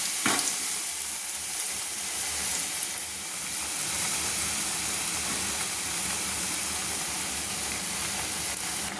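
Eggplant fritters (beguni) deep frying in hot oil, a dense, continuous close sizzle and bubbling hiss that stays loud and even, with a brief clatter at the start.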